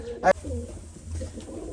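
A pigeon gives a short, close coo, followed by soft murmuring background noise.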